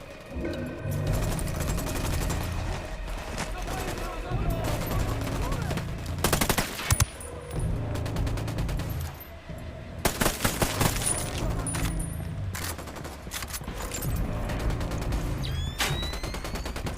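Bursts of automatic gunfire and single shots in the tactical shooter game Ghost Recon Wildlands, loud and close, with rapid rattling volleys, brief pauses and sharp impacts across the stretch.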